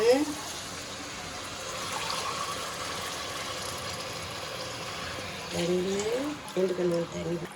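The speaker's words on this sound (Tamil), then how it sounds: "4 டம்ளர் அரிசிக்கு 4 டம்ளர் தண்ணி. நிறைய ஊற்றிடாதீங்க, கரெக்டாக ஊற்றுங்க." Water is poured into a pot of rice with coconut milk for Tamil ghee rice, a steady soft splashing stream, while a person talks at the start and end.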